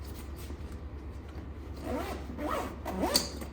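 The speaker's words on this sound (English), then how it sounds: "You unzip" A zipper on a Viking motorcycle bag is pulled open in a few short, rasping strokes, close and fairly quiet, rising toward the end over a low steady hum.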